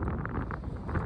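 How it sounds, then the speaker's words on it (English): Wind buffets the microphone at Tuktoyaktuk on the Arctic coast, a loud, continuous low rumble with gusty swells through the whole short stretch. "Of course, it's windy."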